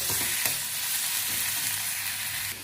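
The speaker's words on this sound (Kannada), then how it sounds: "ಇದ್ರಾಗ ಟಮಾಟಿ, ಉಳ್ಳಾಗಡ್ಡಿ, ಕೊತ್ತಂಬರಿ, ಬೆಳ್ಳುಳ್ಳಿ ಎಲ್ಲ ಫ್ರೈ ಹಾಕಕ್ಕೆ ಎಣ್ಣೆ ಹಾಕಿ ಇಟ್ಟೇನ್ರಿ" Tomato, onion, coriander and garlic fry in hot oil for a mushroom curry, making a continuous, close, crackling sizzle that holds steady throughout with no voices.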